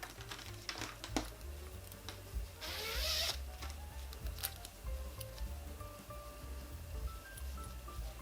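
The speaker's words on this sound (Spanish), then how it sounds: "Y ahora ya vamos a colocar la cremallera." A dress zipper is handled and positioned at a sewing machine, giving short scratchy rustles and clicks with one longer bright zip-like burst in the middle, close and fairly quiet over low background hum.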